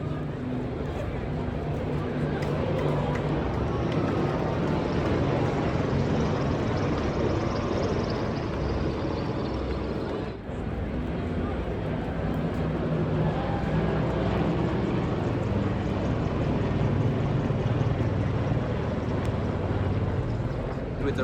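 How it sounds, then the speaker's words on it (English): A steady, broad roar of Red Arrows jets flying past overhead at the King's coronation, continuous and fairly loud throughout, with a faint whine drifting in pitch. "the red arrows still flew"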